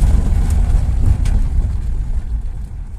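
A VAZ 2103 car engine with a knocking fault runs at idle, a steady low rumble with slight wind buffeting, loud and close throughout without any talk.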